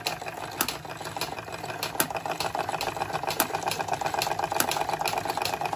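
A Märklin 16051 model steam engine running steadily, a continuous mechanical whir with fast regular ticking and chuffing beats and a faint high whine over it.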